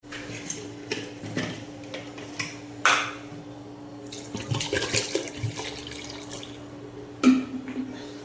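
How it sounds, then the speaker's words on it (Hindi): Water splashes and drips as a pot is rinsed in a kitchen sink, with clinks of metal dishes and cutlery, close and moderately loud in uneven bursts. "बस अब पानी डाल के और इसको एक बार धो के अच्छे से"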